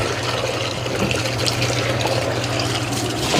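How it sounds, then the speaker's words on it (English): Tap water runs steadily over a dish being rinsed, a loud, close, continuous splashing gush with no talking. "Let me just rinse this off."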